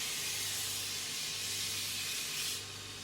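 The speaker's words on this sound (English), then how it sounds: "So you can put a bit of WD-40 or something else, lubricant on there, just to help it spin nicely." Aerosol WD-40 lubricant sprays in one continuous close hiss for about three seconds in a workshop, onto a Land Rover 2A brake part during an electric conversion and restoration, then tails off slightly at the end.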